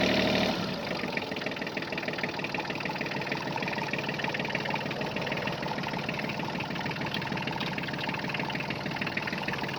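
A small diesel engine of an ISEKI SIAL5 mini tractor running steadily close by, a continuous rattling, knocking drone at constant pace throughout.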